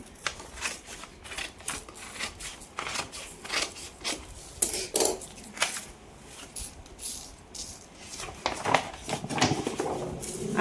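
Scissors snip through a velvet blouse fabric in a string of short, crisp cuts and soft rustles of cloth, close and moderately quiet, with no speech.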